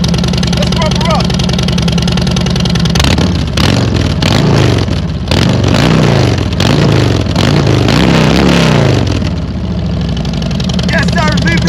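A 2018 Harley-Davidson Road Glide Special V-twin idles with a deep rumble, then its custom exhaust pipes roar through several loud, close throttle blips and revs before settling back, with a voice briefly heard at the start and end.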